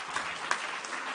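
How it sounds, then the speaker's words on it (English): Applause from a conference audience at the close of a session on climate-smart marine spatial planning: a dense, steady wash of many hands clapping fairly loudly from start to finish. "please join me at giving a very, very big applause to everyone in this"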